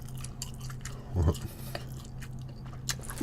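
Close, wet chewing and biting of gochujang bulgogi and beef belly from a lunch box, with an occasional crunch, over a steady low hum, with no speech.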